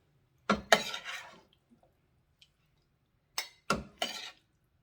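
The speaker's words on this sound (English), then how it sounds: "Dish some of this up into our bowl." Gyro pasta with tomatoes is dished from a pan into a bowl, giving a cluster of close scraping clinks of utensil on crockery, a few tiny taps, then a second short run of clinks, with no talking.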